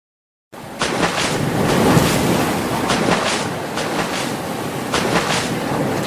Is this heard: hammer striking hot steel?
no